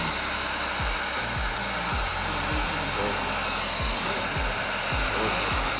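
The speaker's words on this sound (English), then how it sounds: "Starting to ricochet a little bit with the heat gun." Heat gun blowing continuously while heat shrinking film on a Corvette back window, a loud steady airy roar with low thumps recurring underneath, close to the listener.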